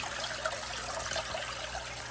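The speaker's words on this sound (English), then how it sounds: "and that'll pump the water into the fish tank." Water is pumped through a hose into a bare-bottom fish tank, a steady trickling, splashing flow heard close and fairly quiet, with no talking.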